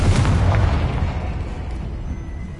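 A fiery Confringo blast spell from Hogwarts Legacy goes off with a loud, low boom right at the start, then rumbles and trails off into a fading roar over a couple of seconds.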